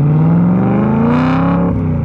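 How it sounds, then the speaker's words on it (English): BMW E92 M3 engine with a loud, rusted-out exhaust revs up in a steady rising drone, harsh and close, then eases off near the end, loud throughout with no voices. "It's freaking loud. What it's really missing now is just a bearable exhaust that's not completely rusted out."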